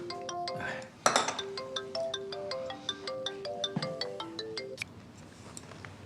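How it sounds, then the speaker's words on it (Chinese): A mobile phone ringtone plays a bright, chiming melody of quick plinking notes, fairly close and moderately loud, repeating its tune over several seconds, with a short clink and brief talk heard around it. "爸爸，你怎么还不接电话？"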